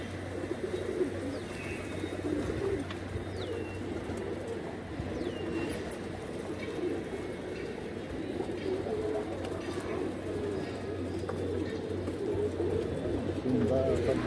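Pigeons coo softly as they land, against a steady low hum, with occasional wing flutters and faint chirps, while a voice murmurs in the background.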